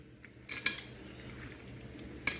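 Parshe fish being mixed by hand with turmeric and mustard oil in a kitchen bowl gives a few light metallic clinks and clatters against the dish, faint and spaced out, with no talking.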